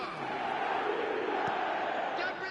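Steady roar of a stadium crowd in the eFootball 2026 football video game, dense and continuous with chanting swells, no clear speech over it.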